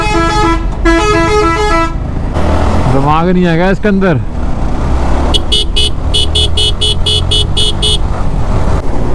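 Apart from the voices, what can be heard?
bus horn honking repeatedly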